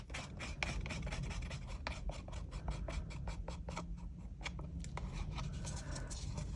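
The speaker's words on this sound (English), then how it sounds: "Just scrape out the last little bit out of there." Last bit of resin scraped out of a mixing cup, a faint, close run of rapid scratchy strokes continuing steadily without pause.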